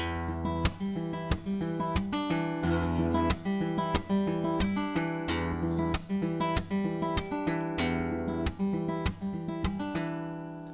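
Fingerstyle guitar played with a steady percussive picking pattern, sharp slaps on the strings alternating with plucked notes in an even, repeating rhythm.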